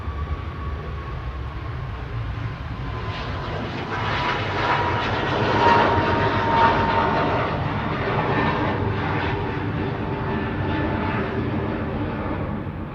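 A Ryanair airliner on its flight to Bologna at Manchester Airport, its engine roar building from a distant rumble to a loud broad rush around the middle, then holding steady as it passes.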